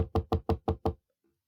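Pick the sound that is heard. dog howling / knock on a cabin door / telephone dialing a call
knock on a cabin door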